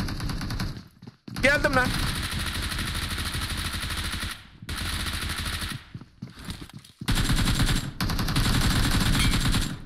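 Sustained automatic rifle fire from the mobile battle royale game PUBG Mobile, long loud bursts separated by brief gaps, with a player talking over the shooting.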